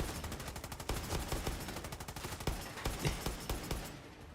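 Rapid automatic gunfire in Far Cry 6, dense bursts of bangs and crackling shots in quick succession, fairly quiet overall with no talking.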